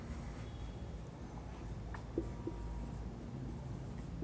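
A pen writes notes during a chemistry lesson on the periodic table, a faint scratching with two small taps in the middle, quiet against a low room hiss.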